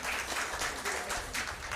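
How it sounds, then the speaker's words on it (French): Quiz show audience at a high school competition applauds a team, a dense, steady wash of many hands clapping, fairly quiet and sustained throughout, with no speech over it. "On les applaudit quand même"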